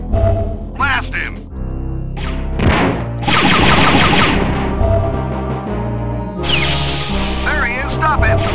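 Rapid blaster fire in Star Wars: Dark Forces, inside an Imperial weapons research facility, crackling in bursts over game music and shouting voices, with dense volleys in the middle and again near the end.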